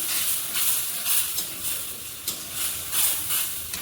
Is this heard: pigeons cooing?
no